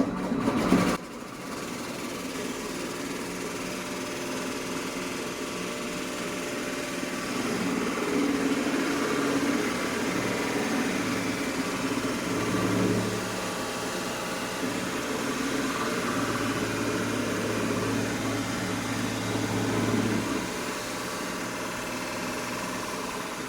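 A mini lathe cuts into metal, its motor whirring steadily at a moderate level for over twenty seconds, with the pitch and load shifting as the tool digs in and eases off.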